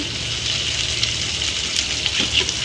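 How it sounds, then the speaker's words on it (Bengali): Loitta fish frying in a pan and being stirred, with a steady close sizzle and soft scraping of the stirring over it. "এবার ঢাকাটা নামিয়ে আরেকবার একটু নেড়ে দিয়ে"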